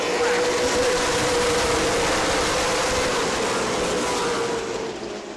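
Race cars roar past on the New Smyrna speedway after a restart, a loud continuous engine drone with a sustained whining tone that gradually fades as the pack moves away.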